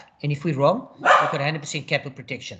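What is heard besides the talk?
dog barking at pigeons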